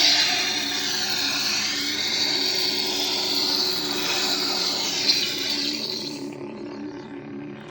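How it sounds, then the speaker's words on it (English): A Proffie-powered Anakin Skywalker lightsaber in blade lock-up gives a sustained, buzzing electric hum with a harsh crackling edge. It holds steady for about six seconds, then cuts off abruptly. "If you want blade lock up, you have to hold auxiliary down and hit the saber."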